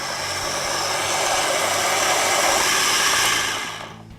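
A coffee grinder set to its coarsest setting grinds beans for French press, a steady whirring roar that holds at full loudness for over three seconds before quickly winding down.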